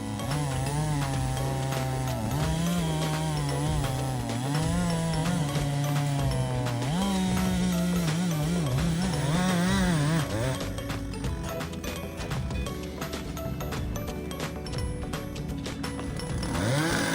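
A big 120cc chainsaw with a 36-inch bar cuts through massive tree stumps, its engine snarling loud and close with a steady high whine that bogs and revs in waves throughout.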